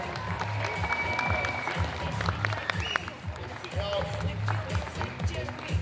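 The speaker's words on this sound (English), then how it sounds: "Let's give him a big round of applause, ladies and gentlemen" A convention crowd at Supanova Gold Coast applauds a cosplayer on stage, clapping mixed with cheers and crowd murmur and occasional louder shouts, fairly full throughout.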